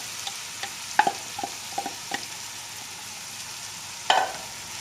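Lentils for a dhaba-style dal fry hit hot oil in a pan, making a soft sizzle with scattered spoon clicks and scrapes, a louder scrape near the end.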